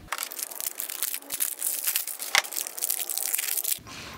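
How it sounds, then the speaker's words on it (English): Packaging around a Fiat valve actuator special tool being unwrapped by hand, a quiet run of crinkling, tearing plastic and paper with sharp crackles and one louder snap near the end. "Let's unwrap this thing."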